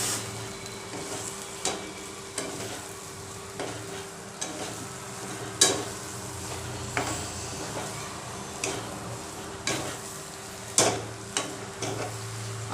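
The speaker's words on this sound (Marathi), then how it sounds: "कोळंबी परतवून घेऊया." Prawns being stir-fried in masala sizzle steadily in a pan. A spatula stirs and scrapes at a regular rhythm, giving a series of sharp taps and clinks against the metal over the constant frying hiss, with no talk.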